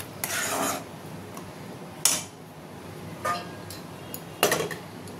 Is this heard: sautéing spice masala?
yes